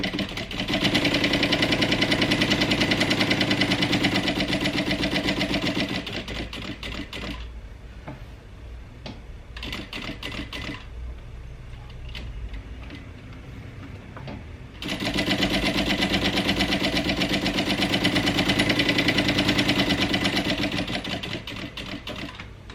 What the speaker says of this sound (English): I'm just going to sew around this box, and I'm going to sew around the second box that I've created